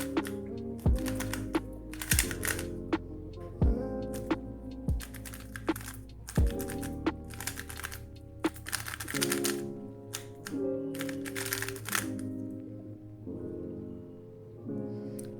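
A lubed RS3M 2020 Elite speed cube being turned by hand, giving rapid, close clicking and clacking turns in irregular bursts with occasional louder snaps, alone without talk.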